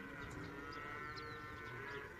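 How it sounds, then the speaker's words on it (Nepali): Cattle on a farm in Riyadh, Saudi Arabia, low and faint in the distance under a steady broadband hum, with a few scattered moos and no talking. "यो चाहिँ फार्मिङ रहेछ यहाँ होइन, सबै गाई गाई, एक लाइन गोरु।"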